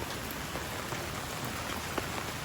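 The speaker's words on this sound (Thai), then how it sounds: "ฝนตกค่อนข้างที่จะแรงและหนักมากเลยนะ" Heavy rain pours down steadily, a dense, continuous hiss of drops striking surfaces close by, with no pauses and no voices.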